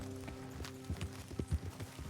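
Faint horse hooves clip-clopping in Red Dead Redemption 2, a loose series of soft, muffled thuds on the ground at an uneven walking pace.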